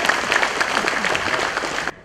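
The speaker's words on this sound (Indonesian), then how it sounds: "Tepuk tangan buat semuanya" Crowd applause at a mass graduation ceremony for elderly students in East Jakarta, steady dense clapping that cuts off abruptly near the end.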